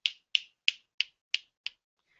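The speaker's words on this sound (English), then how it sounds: "I was snapping my fingers" Six crisp finger snaps at an even, quick pace, close and clear against silence, each a sharp click with a short tail.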